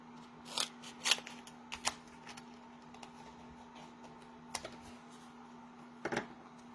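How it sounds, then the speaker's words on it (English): Scissors cut through a crafting adhesive sheet in several quick, close snips, clustered in short bursts with pauses between, over a faint steady hum. "we'll just use our scissors"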